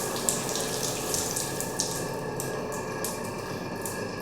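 A hotel bathroom tap runs steadily, a continuous close hiss and splash of water into a sink, alone with no voices.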